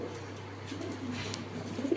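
A caged pigeon, one of the foreign breeds offered for sale, gives soft low cooing, a faint murmur close by under a quiet background hum.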